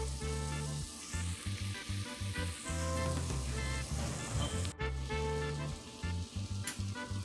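Cabbage, onion and rutabaga frying in a pan on the stove, a steady sizzle running throughout with low rhythmic bumps underneath, fairly loud and close with no talk.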